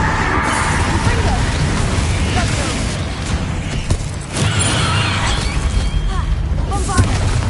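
In the Hogwarts Legacy video game, the Confringo spell sets off a deep rumbling explosion, followed by continuous booming and creaking battle noise under a shouted voice.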